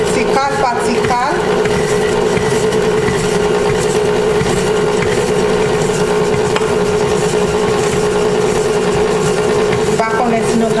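An electric mixer beats butter and sugar for a pineapple cake, giving a steady motor hum throughout while a person talks over it.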